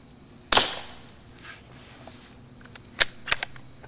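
A suppressed .22 rifle fires a sharp, fairly quiet crack, followed a few seconds later by another crack and two fainter ticks, with a quiet background between them.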